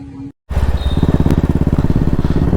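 A Royal Enfield motorcycle engine starts after a brief gap and settles into a loud, close, rhythmic thumping idle with a steady beat of low exhaust pulses.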